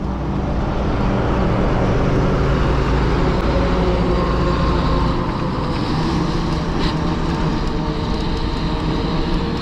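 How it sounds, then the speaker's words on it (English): A noisy truck passes on a road during an e-bike ride, a loud steady engine roar and road rumble holding for the full clip with little change, no talk over it. "noisy truck."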